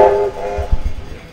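Locomotive whistle in a train simulator video game, a loud harmonic blast that cuts off briefly, sounds again, then gives way to low rumbling thumps.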